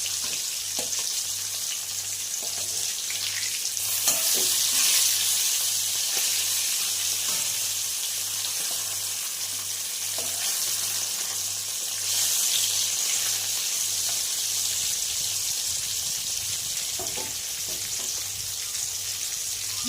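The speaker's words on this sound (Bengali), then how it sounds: "মাছ ভাজা হচ্ছে" Whole fresh bata fish frying in hot oil, a continuous dense sizzle and crackle held close and steady throughout, with faint clinks now and then and no talking.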